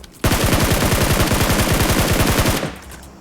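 Automatic gunfire from PUBG Mobile rips out in a fast, loud, sustained burst of rapid shots lasting over two seconds, then stops abruptly.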